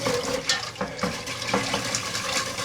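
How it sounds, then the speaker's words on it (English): A wire whisk churns chicken broth for a tuna casserole, giving a continuous close sloshing and swishing of liquid with faint periodic taps, with no voices. "I'm going to switch to a wire whisk. And we're just going to mix that up real good."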